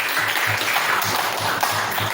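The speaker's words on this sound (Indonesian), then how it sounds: "Tepuk tangan dong, guys" A classroom of students applauds, a dense burst of clapping that holds steady for a couple of seconds with a few faint voices mixed in.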